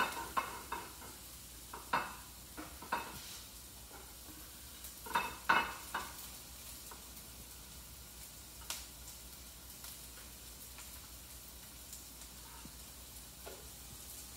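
Ginger and scallions sizzling in a pan, a soft steady fry under occasional sharp clicks and scrapes of a utensil stirring against the pan, close and fairly quiet.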